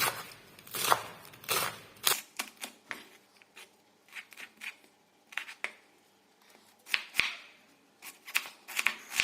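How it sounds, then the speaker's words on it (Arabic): Knife slicing cabbage thinly for a gratin, sharp crisp cuts in irregular bursts, close and clear, with brief crunchy rustles between strokes and no talking. "نقطع فيه كما راكم تشوفوا معايا. لازم نقطعه رقيق"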